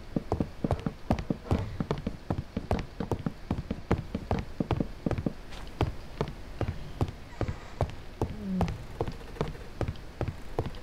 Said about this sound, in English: It's just standard rain.